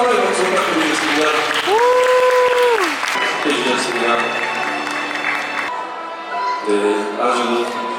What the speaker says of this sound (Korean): 하나 하나의 박수 부탁드리겠습니다.